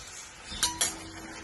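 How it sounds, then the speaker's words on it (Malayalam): Ginger, garlic and green chilli cook in oil left over from frying chicken, under a soft steady hiss, with two quick metal clinks of a utensil against the pan close together. "ഇതൊന്ന് വാട്ടി വെക്കാം."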